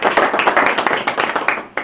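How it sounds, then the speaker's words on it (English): Small audience clapping for a presenter after a talk on video SEO, a dense patter of close hand claps that runs steadily and stops near the end. "let's have a applause for Luda"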